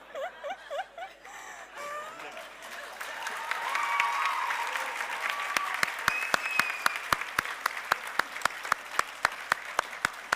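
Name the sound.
applause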